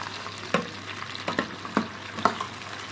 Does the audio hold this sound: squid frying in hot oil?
yes